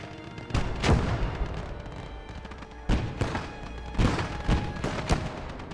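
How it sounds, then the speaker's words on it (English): Field gun artillery barrage in the World War II strategy game Gates of Hell, with a German force, a series of heavy booming shots at irregular intervals, about six, over a rumbling battlefield background. "They're more of a field gun to lay down a barrage, unless you're directly pointing at a vehicle."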